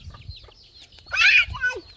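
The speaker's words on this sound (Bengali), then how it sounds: "মুরগি খাইতেছে বিস্কুট।" Chickens clucking while pecking at tossed biscuits, a short burst of close clucks and a brief louder squawk over low rustling.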